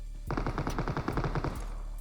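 A rapid burst of automatic gunfire from a PUBG Mobile match, about a dozen fast evenly paced shots rattling for a second and a half, fairly close, with no voices.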